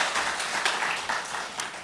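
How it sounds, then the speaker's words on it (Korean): A church congregation claps together in a steady, dense wash of applause that fills the room evenly for the whole moment. "격려하는 마음으로 박수 한번 하도록 하겠습니다"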